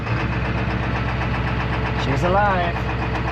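A Ford 7.3 Powerstroke diesel engine turns over, fires and settles into a loud, clattering idle nearby, with a steady knocking rhythm. Someone speaks briefly over the running engine.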